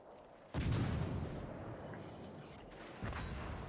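Naval guns fire in the game World of Warships: Legends: two heavy booms a few seconds apart, the first loud with a long rumbling decay and the second somewhat softer, over steady battle ambience.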